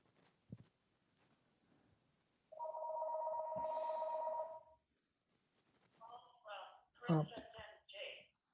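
A telephone rings in the background of a talk on supersymmetric Yang-Mills theory: one steady, buzzing ring lasting about two seconds, set between stretches of quieter speech.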